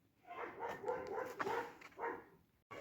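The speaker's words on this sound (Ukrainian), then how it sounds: "Собаки гавкають людські, ну, сусідні." Neighbours' dogs barking out in a home yard, a string of rough, overlapping barks at moderate distance that keep going for a few seconds.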